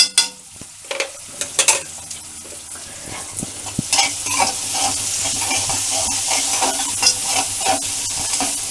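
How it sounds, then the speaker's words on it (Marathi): Onion sautéing in a pan for a wild-yam (karanda) vegetable dish, with steady sizzling throughout and a few sharp spatula scrapes and clinks near the start, close and fairly loud with no talking. "छान असं परतून घ्यायचा कांदा एकदम मऊ करून"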